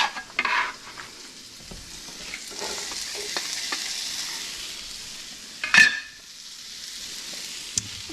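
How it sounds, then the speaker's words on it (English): Onions and patty pan squash sauté in a lightly heated cast iron pan with a little olive oil, a steady soft sizzle broken by a few louder stirring scrapes and clacks, with no voice. "I'm just gonna saute the onions and the patty pan"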